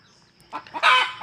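A chicken gives a couple of short clucks close by, then a louder, drawn-out squawk.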